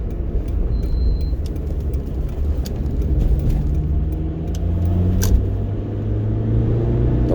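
2005 Acura RSX Type S driving along back roads on a cold afternoon, a steady close engine drone and road rumble with slowly rising tones as the car accelerates, and no talking.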